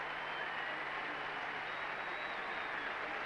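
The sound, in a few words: applause for Roscoe Tanner at Wimbledon final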